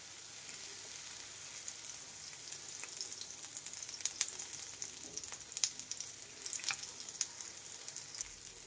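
A capsicum egg omelette sizzles in an oiled pan: a steady, quiet frying hiss scattered with sharp little pops and crackles, close by, with no one speaking.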